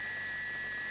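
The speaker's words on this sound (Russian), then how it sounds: "Но Гордон никогда так не свистит" A steam locomotive whistle in a cartoon holds one steady high pitched tone for the whole brief moment, loud and unbroken over a faint background hum.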